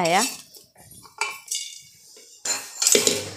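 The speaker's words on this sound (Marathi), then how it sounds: "त्या आता आपण एका भांड्यात काढून घेऊया।" Freshly popped popcorn is tipped out of a pressure cooker into a bowl, with metallic clattering and scraping in several bursts after a brief voice at the start.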